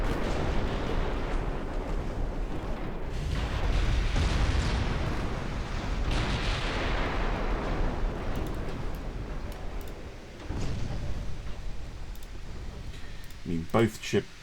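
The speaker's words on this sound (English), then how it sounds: "Cornwall coming in. lending a bit of a hand with the 9-inch guns." Naval guns of 9 inches fire in a 1930s naval warfare video game, a rolling, rumbling barrage of booms and blasts that stays dense and continuous, with a quieter lull and a few sharper pops toward the end.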